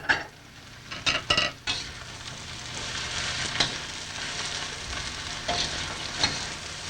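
Vegetables sizzle and fry in a pan as a spoon scrapes and stirs them, with clinks and scrapes of utensil on pan over a steady frying hiss, close and moderately loud.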